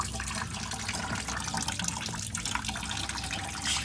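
Fluids drain and splash steadily from a 1956 Ford Thunderbird, a continuous close liquid trickle with a slight hiss and no talking.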